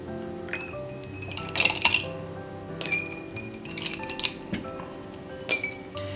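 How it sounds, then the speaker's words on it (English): A few ice cubes drop into a glass of Vietnamese Ca Phe Da coffee, giving light scattered clinks and tinkles against the glass over a soft background hum, near and fairly quiet, without speech. "if we go ahead and we add a few ice cubes to it"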